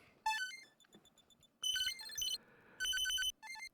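Glitchy, data-bent noise from the Mother's Rack effect comes in bursts of bright, stuttering beeping tones, three loud clusters split by quieter gaps.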